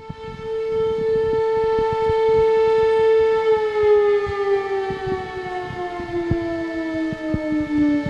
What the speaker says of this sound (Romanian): Alarmele de informare a populației au sunat astăzi începând cu ora 10 la Craiova.